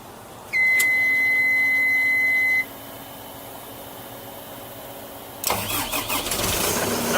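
A backhoe's controls give a steady electronic beep for about two seconds, then after a quiet pause the diesel engine cranks and catches, settling into a rough, loud running rumble close by.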